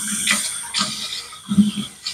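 Tap water runs briefly during a wet shave with a vintage 1950 Gillette safety razor, a short close splashing burst that cuts off and then returns, with no talking.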